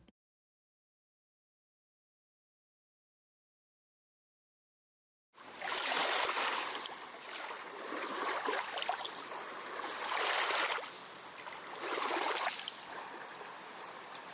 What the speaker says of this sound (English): You're suddenly at the ocean.